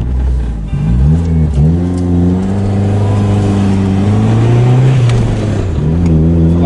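A turbocharged Mazda Miata pulls off and accelerates, its engine note loud and up close, climbing in steady rising sweeps with a brief dip at each gear change.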